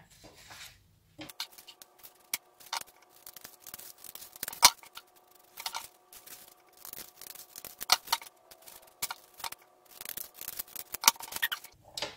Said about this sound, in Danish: Nu har jeg klippet min Dutch Door.